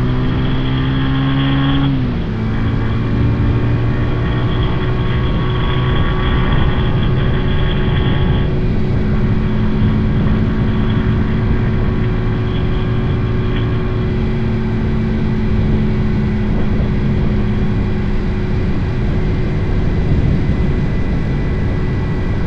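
A Kawasaki W230 motorcycle accelerating through its gears on a ride, a loud continuous engine note rising in pitch with a clear shift early on, heard close up with no talk.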